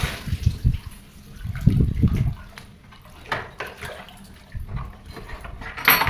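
Knee-deep floodwater inside a house sloshes and splashes in irregular low surges as someone wades through it, with occasional drips and faint background noise.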